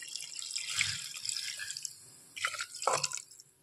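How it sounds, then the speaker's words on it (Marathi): Hot water poured into a pot of fried mutton, splashing and trickling in short uneven bursts, with a louder gush near the end, heard close up with no talking. "परतून झालं, आता याच्यामध्ये ना गरम पाणी टाकायचं आहे।"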